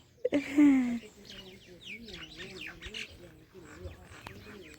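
Several small birds chirp and twitter in an open rural outdoor setting, light and scattered calls running throughout, with a louder close call near the start.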